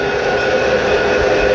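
Santa Fe model train running on a layout track, a steady close mechanical whir and rattle of wheels and motor throughout, with no voices.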